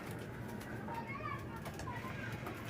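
American pigeons cooing softly in a loft under a steady low background hum, with a voice talking faintly nearby.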